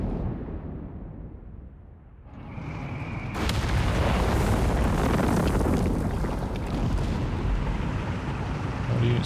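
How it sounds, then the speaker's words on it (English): BL 5.5 heavy artillery shells hit buildings in Company of Heroes 3, heard as a sustained rumbling roar of blasts and collapsing debris that builds after a quiet start. "because it's heavy artillery, it completely destroys these buildings"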